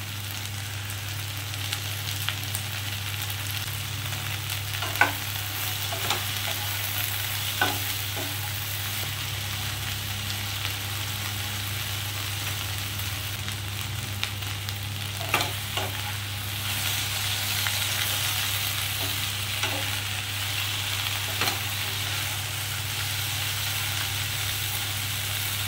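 Okra (bhindi) with turmeric and chili powder frying in a pan, a steady sizzle over a low hum, with occasional sharp scrapes and taps as it gets stirred.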